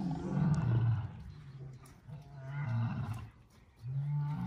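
Lions roaring and grunting as they are released into the savanna, a series of deep, rumbling calls rising and falling in uneven bursts, fairly close and alone.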